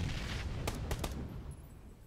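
Video-game gunfire during a grand-final tournament match: a quick burst of three faint shots cuts through a steady wash of background noise.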